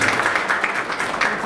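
An audience at a lecture event claps together, a loose, uneven patter of many hands rising and dipping in short swells, with some voice-like sound mixed in.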